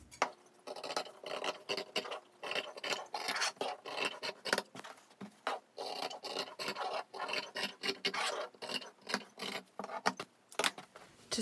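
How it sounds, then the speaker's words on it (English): Scissors cutting cloth for a face mask along pattern lines, a rapid series of close, dry snipping and rasping strokes in an irregular rhythm, fairly quiet with no talking. "so you can cut on your lines"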